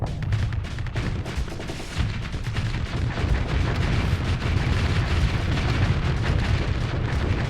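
Torpedoes slam into a ship in the space combat game Starsector, a dense, continuous barrage of heavy booming impacts and rumbling explosions, loud and relentless throughout.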